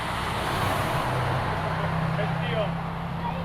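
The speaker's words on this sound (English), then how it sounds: "Oh, now we've got the Metro trucks coming." A convoy of trucks rolls past during a truck show, a steady low engine rumble and road noise that holds throughout, heard under people talking nearby.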